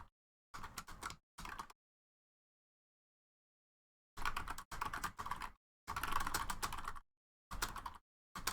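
Bursts of typing on a computer keyboard, clattering in separate clusters with long silent gaps between them, near and alone.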